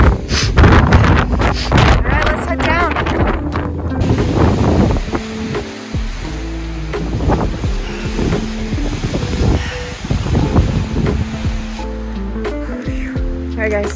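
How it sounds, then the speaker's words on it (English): Strong gusting wind on a mountain along the Goose Eye and Mount Carlo loop roars and buffets against the microphone in loud, continuous blasts, and a hiker's voice is heard through it. "That wind, that had to have been gusting at 60."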